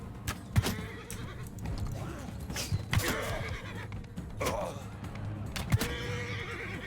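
A horse neighs and whinnies several times amid hoof clip-clops and other Mount & Blade game noises, fairly close and prominent.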